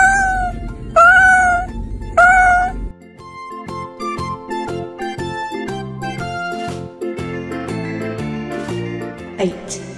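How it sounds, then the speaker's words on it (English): A cat meows three times in quick succession, loud and close, then gives way to bright, tinkling toy-like music with a bouncy rhythm. "Cat."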